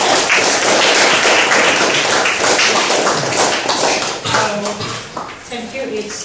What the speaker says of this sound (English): Give me applause to Ibu Hermina Clayton